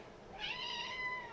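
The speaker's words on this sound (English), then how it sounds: "That's our cat." A house cat meows once, a drawn-out, rising-then-falling cry that stands alone against a quiet room with faint background hiss.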